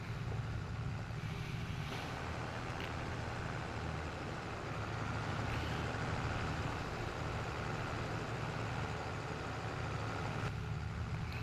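A fast tractor in Farming Simulator 22 drives along with a steady low engine drone, constant and fairly quiet, with no speech.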